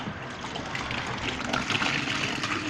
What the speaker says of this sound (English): let me just put some more water in here, you know, for the celery